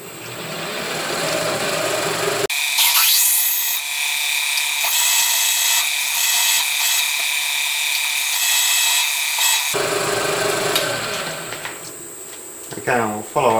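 A drill with an 8.9mm bit whines loudly and steadily for several seconds, biting through metal for a forged crankshaft with a high-pitched grinding tone, then spins down to scraping and clicks.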